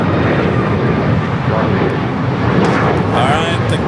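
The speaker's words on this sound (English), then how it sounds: "Second King arrival here on the south side. The A380 Super." Airbus A380 airliner arriving at LAX on the south side, a loud broad roar of jet engines rising and sustained throughout, heard close with a voice talking over it.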